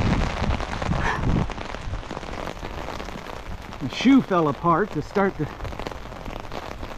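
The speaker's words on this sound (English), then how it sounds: "And it's been raining the entire time." Steady rain falls during an outdoor walk, a constant hiss throughout, with a person speaking briefly partway through.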